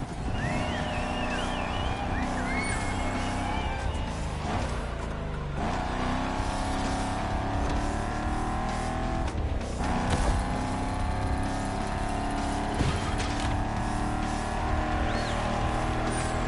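Virtual car lapping a track in the racing game The Crew Motorfest, a Shelby GT500, with a steady loud engine drone, shifting revs and tire noise running continuously throughout, plus occasional brief dips as gears change.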